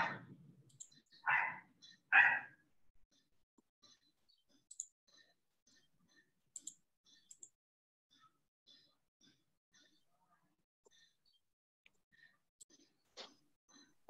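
Computer mouse clicks sound as sharp isolated ticks scattered across a quiet stretch, faint and sparse, following a few brief bursts of soft speech at the start.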